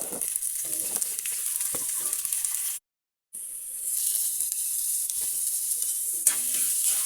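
Shrimp and squash sizzling as they go into a hot pan for ginataang hipon, a loud, continuous close frying hiss with a brief break and light stirring clatter.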